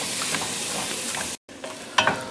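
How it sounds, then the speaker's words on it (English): Vegetables for a crawfish and shrimp etouffee sizzle steadily in a pan, frying close up with stirring scrapes, a brief gap of silence, then sizzling resumes with a sharper stir. "So now we're going to just cook this down, soften them vegetables up a little bit"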